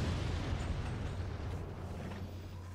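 Rocket barrage detonating in a tank battle video game, a dense continuous rumble of blasts with no voices over it.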